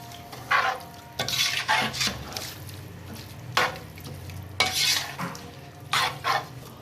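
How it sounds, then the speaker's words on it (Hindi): Carrots being stirred in milk in a pan for gajar halwa, a spoon scraping and clinking against the metal in repeated bursts with a soft simmering hiss underneath, close and alone. "इसके बाद हमने इसमें दूध शामिल कर दिया है और हम इसको अच्छी तरह से मिक्स कर लेंगे।"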